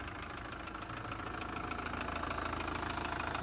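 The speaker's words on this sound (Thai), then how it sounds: "เครื่องเดินเบาเรียบนะคันนี้นะ" A 2004 Mitsubishi Strada 2.5 pickup engine idles close by, low and even with a faint rhythmic knock, holding constant for a few seconds.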